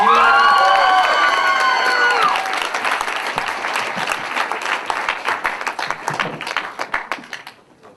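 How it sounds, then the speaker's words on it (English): Applause and cheering for a stand-up comedian coming to the stage: loud crowd clapping with whoops at first, then steady dense clapping that thins into scattered claps and fades out. "please give a warm round of applause to Max Lasser."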